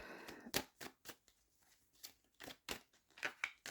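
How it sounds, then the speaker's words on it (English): Oracle cards, a divine masculine deck, being shuffled by hand in a quiet room, with several short, crisp riffling bursts spaced irregularly and heard close up, without any talking. "I'm shuffling the hot guy divine masculine cards"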